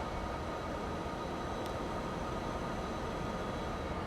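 A fuel train running in Transport Fever 2, a faint, steady rumble and hiss of rolling wagons, unbroken and distant.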